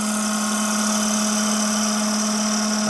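A wood lathe spins a wooden bowl while its foot is being turned, giving a loud, steady motor hum with a strong unbroken tone and no gaps.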